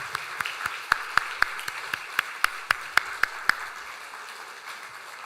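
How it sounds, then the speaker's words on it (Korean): Church congregation claps during a Sunday worship service, a sparse, moderately faint run of distinct claps in a loose rhythm that thins out and stops after about three and a half seconds. "우리 박수로 다시 한번 축하하도록 하겠습니다"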